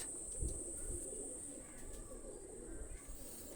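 Soft cooing from a Pakistani high flyer pigeon, quiet and close, repeating over a low background rumble with no voices.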